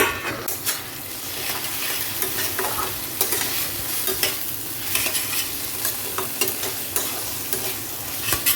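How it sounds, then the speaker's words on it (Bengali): Moong dal frying in oil and ghee for Bengali puja bhog khichuri, a steady close sizzle broken by repeated scraping stirs of a spatula against the pan, with no talking. "জল ছাড়া এবার মুগ ডালটাকে ওই তেল ঘিয়ের মধ্যে একটুখানি ভাজা ভাজা করব"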